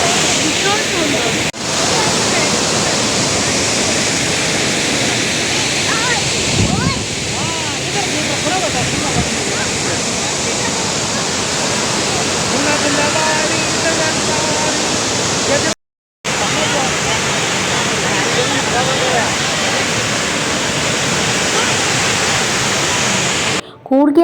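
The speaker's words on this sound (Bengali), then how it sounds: "প্রচণ্ড পরিমাণে অ্যাবি ফলসের সেই ফলসের সাউন্ডটা আসছে" Abbey Falls waterfall in Coorg roars loud and close, a dense, unbroken rush of water that swamps everything, with a voice partly buried beneath it and a brief gap in the sound midway.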